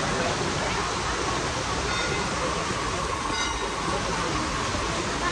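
Water pours steadily from the 108 spouts at Muktinath temple, a dense, continuous rushing close by, with faint voices mixed in.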